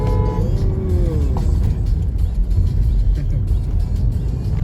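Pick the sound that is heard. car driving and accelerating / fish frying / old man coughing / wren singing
car driving and accelerating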